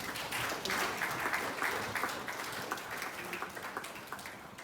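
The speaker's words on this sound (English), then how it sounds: "Please clap for her." An audience applauds to honor a computer science PhD at a gathering, a steady wash of clapping at moderate distance that gradually thins toward the end.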